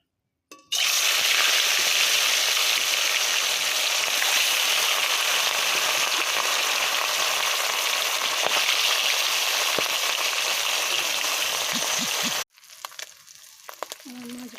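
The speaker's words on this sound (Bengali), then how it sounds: "মাছগুলোকে ভেজে নেব।" Pieces of catla fish frying in hot oil give a loud, steady, dense sizzle that runs almost without a break, then cuts off sharply near the end and leaves faint clinks and quiet noise.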